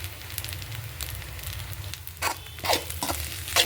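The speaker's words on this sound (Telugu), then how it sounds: "ఇవంతా బాగా కలిపేస్తున్నాం" Fried rice with garam masala, chicken masala, chili powder and dark soy sauce stirred in a hot pan, a steady close sizzle broken by scraping strokes of the spatula toward the end.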